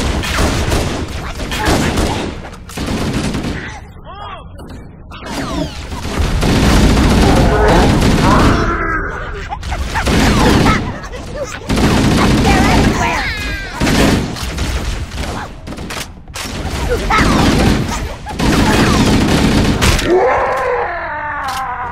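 Gunfire in Halo: Combat Evolved Anniversary comes as repeated loud bursts of shots in clusters, separated by short lulls, with groaning voices mixed in among the volleys.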